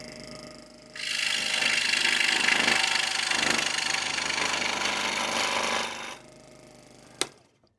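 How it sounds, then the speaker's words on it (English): A scroll saw cuts through scrap wood between 3/8 and 1/2 inch thick, a loud steady buzzing rasp that starts abruptly, runs for about five seconds and stops, followed by a sharp click. "you've got to get this little thing that blows the air away above the wood you're using"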